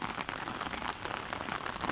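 Heavy summer downpour over a farm field after a hailstorm, rain drumming steadily on surfaces as an even, dense hiss at moderate distance, with no voices.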